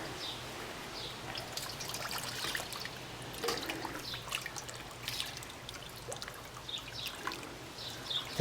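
Water from a solar shower runs through a long, kinked hose in a steady, close trickle and splash, with faint bird calls high above and a low hum beneath.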